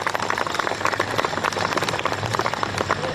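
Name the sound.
audience applause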